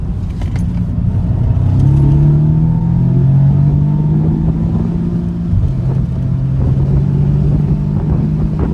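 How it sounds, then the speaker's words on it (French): An Audi S3 8V Cabriolet engine pulls hard under acceleration, a loud, close, sustained drone rising in pitch, dipping briefly at a gear change around the middle before climbing again. "Ça pousse même pas à pousser dans le rapport pour entendre le bruit du moteur."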